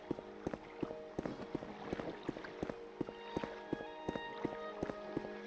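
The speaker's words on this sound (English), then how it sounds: "I love the River Strider sounds." A River Strider, the giant insect boat creature of Tamriel Rebuilt, moves with steady, evenly spaced thudding strides over a sustained droning hum, fairly faint and without any voices.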